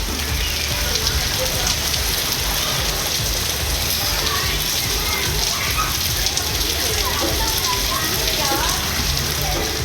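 Rain falling across neighbourhoods of Tiruchirappalli, a steady broadband hiss of drops on surfaces that stays dense and even for the whole stretch, with no pause and no voices standing out.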